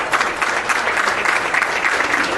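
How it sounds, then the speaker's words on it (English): At a political panel, members stand as an audience applauds state party national committee members, producing a dense, steady round of clapping that holds level and fairly loud throughout, with no speech over it. "if you please stand and give them a round of applause."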